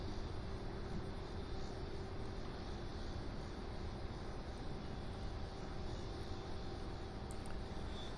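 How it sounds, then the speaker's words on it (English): A McDonnell Douglas MD-83 at Louisville International Airport gives a faint, steady jet roar, a distant broadband rumble that holds evenly throughout. "That is an MD-83."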